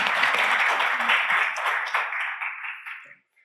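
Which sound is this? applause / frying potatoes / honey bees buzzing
applause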